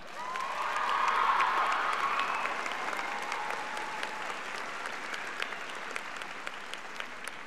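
Graduation audience at a high school ceremony applauding an award recipient, broad sustained clapping from a large crowd with faint cheering, swelling early and then holding at a steady, slightly distant level.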